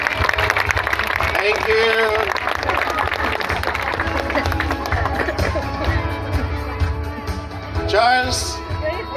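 Wedding guests applaud as a newlywed couple is introduced, a dense, sustained crowd clapping with cheers and voices mixed in, and someone briefly speaks over it.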